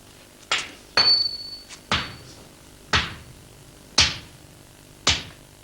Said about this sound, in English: After the folding, the lump is beaten into its final shape.